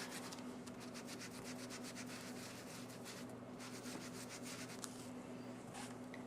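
Steady, soft scraping of blue ink being rubbed onto a white paper tag for a card background, a continuous faint scrubbing texture with no voices.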